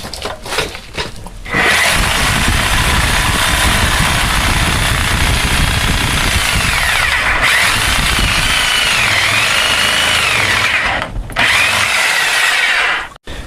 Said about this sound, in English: get your Sawzall. You want to cut them down the length like that.